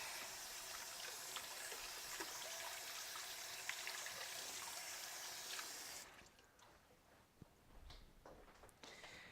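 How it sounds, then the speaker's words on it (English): Tap water runs steadily into a kitchen sink as hands are washed, a soft continuous splashing stream that cuts off about two-thirds through, leaving faint drips and small handling sounds. "Wash my hands really quick so they don't get all into the waffle batter."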